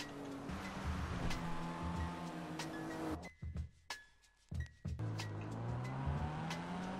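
Game car engine in GTA V running steadily with tire noise, briefly cutting out mid-clip before resuming, no talk over it.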